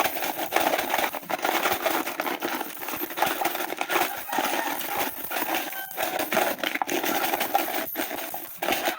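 Many one-peso coins from a child's savings clink and rattle continuously as they are handled up close, with sharp metallic jingles scattered through the nine seconds.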